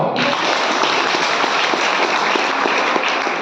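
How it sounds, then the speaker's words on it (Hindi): Loud, dense applause from a large audience at a health session in India, sustained steadily from just after the start to the end with no talk over it. "तो तालियां बजाओ।"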